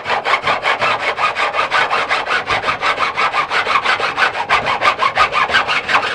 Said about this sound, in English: It's filing all that down